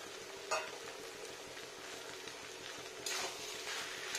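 Cabbage and coriander leaves being stirred in a pan for a low-oil vegetarian dish, giving a steady soft sizzle with two sharper scraping stirs, close and alone.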